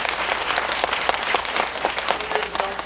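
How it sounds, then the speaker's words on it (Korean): Cinema audience at a Parasite film talk event at Megabox COEX applauding, dense continuous clapping from a large crowd filling the room. "큰 박수 부탁드립니다."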